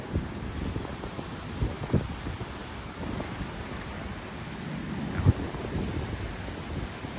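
Waves wash and splash against the shore under steady wind rumble, with a couple of sharper slaps of water breaking close by.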